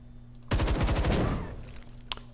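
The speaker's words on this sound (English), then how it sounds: "I'm going to shoot once" A single weapon shot in the Templar Battleforce strategy game, a loud close blast that rattles into a rapid stuttering burst and decays over about a second above a steady low hum, with no talking.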